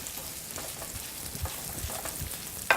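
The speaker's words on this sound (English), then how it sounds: "I'm going to go ahead and add a cup of rice to the dish and stir this around so the rice really gets coated in the skillet" Rice stirred through browned onions in a skillet for risotto, giving a steady close sizzle with soft scraping stirs at irregular intervals and a sharper clack near the end.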